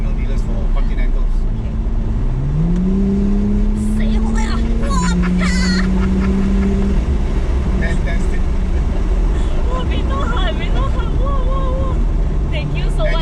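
A Porsche 911 Targa 4S of the 991.2 generation accelerates without full throttle, its engine note rising steadily in pitch and holding loud and close, with people chatting over the run.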